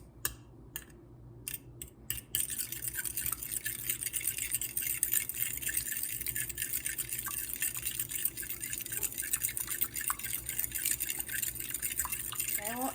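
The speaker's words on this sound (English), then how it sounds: "So I'm going to beat the eggs. Just mix them very well." Eggs beaten in a flat-bottomed mixing bowl for French toast, a fast continuous clicking and sloshing of a utensil against the bowl that starts after a few scattered taps and continues steadily throughout.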